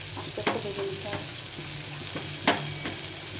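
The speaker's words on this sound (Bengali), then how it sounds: "গ্যাসটা একটু কমিয়ে দিয়ে ভাজতে হবে, কিছু সময় ধরে ভাজতে হবে।" Leftover roti pieces fry slowly on low gas in a pan, a low, even sizzle with a few soft scraping stirs and taps, no voices.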